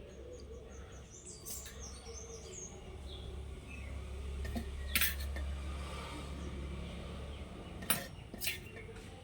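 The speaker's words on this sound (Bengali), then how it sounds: "এবার আমি একসাথে এগুলো সব গুলে নেব।" Spoon clinks sparsely against a bowl while oats are mixed with gram flour into a batter, faint and close, with soft birdsong in the background.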